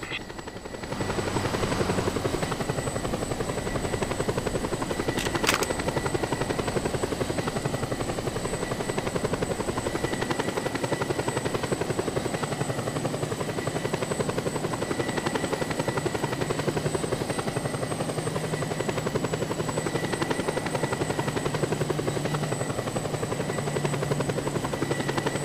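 A helicopter in the video game Just Cause 2 flies steadily, its rotor and engine forming a loud, constant droning buzz with a high whine throughout, uninterrupted and with no voices.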